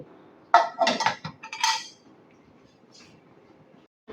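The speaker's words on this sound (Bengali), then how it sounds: "এখন আমি ইডলি মেকারটা এর মধ্যে দিয়ে দিচ্ছি এখন কিন্তু আমি ঢাকনাটা দিয়ে দেব" Metal clanks and clinks as an idli maker stand is set down into a pot and its lid is put on, a quick cluster of sharp knocks and rattles, then near silence with a faint clink afterward.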